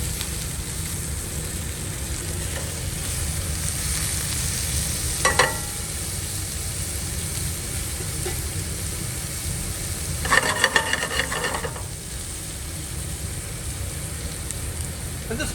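Shrimp frying in a hot pan during a seafood cooking demo, a steady close sizzle throughout with a couple of brief louder bursts of spattering or stirring partway through.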